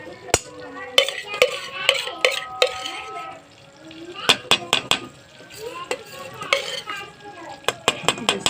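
Desi ghee heats in a pan while a spoon scrapes and clinks against the metal in quick irregular strokes, with a soft sizzle underneath and occasional sharp knocks.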